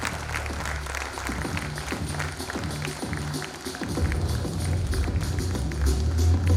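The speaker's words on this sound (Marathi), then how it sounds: "या वयात एवढ्या परफेक्शनसाठी टाळ्या अजून वाजल्याच पाहिजे." An audience applauds a students' gymnastics display at a school festival. Many hands clap steadily and grow fuller toward the end, over low, sustained music.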